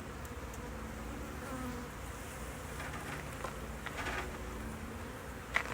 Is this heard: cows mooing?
no